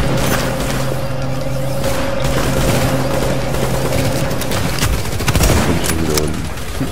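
Sniper fire and a dense fusillade in The Division, set in Manhattan: loud, continuous gunfire with rattling bursts and heavy reports over a droning background hum.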